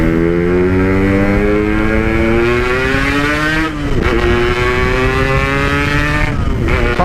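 Motorcycle with a stock black original exhaust, close in character to an SR, revving loud and steady throughout, its engine note climbing in pitch, dipping briefly near the middle, then rising again.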